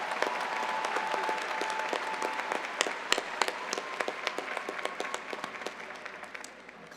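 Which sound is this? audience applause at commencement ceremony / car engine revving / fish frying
audience applause at commencement ceremony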